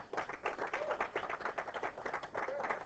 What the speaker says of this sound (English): And a big round of applause for one hell of a final.